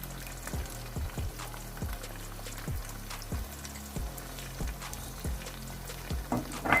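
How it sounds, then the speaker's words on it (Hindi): Mixed vegetables with ginger-garlic paste fry in a pan, a constant sizzle broken by regular dull knocks and scrapes of a spoon stirring, every half second or so. "और इसको हम अच्छे से भून लेते हैं ताकि इसकी स्मेल जो है वो सारी ख़त्म हो जाए"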